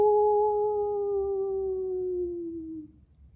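A human voice imitates a ghost howling and whining: one long, drawn-out wail that glides slowly downward and fades away after about three seconds.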